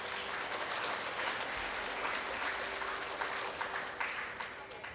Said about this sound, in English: a big round of applause to all the parents here